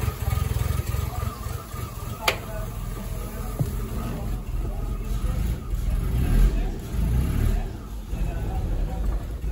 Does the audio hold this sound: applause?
no